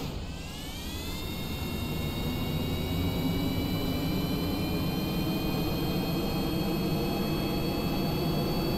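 Jet engine of a plane in the Kerbal Space Program video game, a steady loud whooshing roar with a rising whine that climbs over the first second and then holds a constant pitch.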